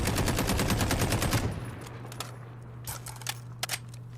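An FN SCAR 17 rifle firing in Call of Duty Warzone, a rapid burst of close, loud shots for about a second and a half, then a low hum with a few scattered faint clicks and taps.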